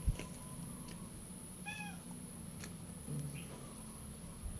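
A cat in a rural Philippine yard gives a short, clear meow, mid-distance, over steady outdoor ambience with a constant high insect whine.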